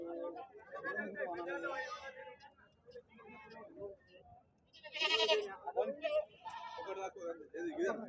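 Goats bleat repeatedly among crowd chatter at a Saturday livestock market in Dubbaka, Telangana, where goats and kids are sold, the calls rising loud in bursts over steady nearby talk.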